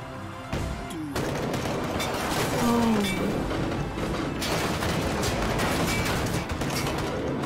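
Sustained gunfire fills a tense scene in the Road 96 game, a dense, continuous volley of shots and booms that runs nearly the whole time at steady loudness, with no talking.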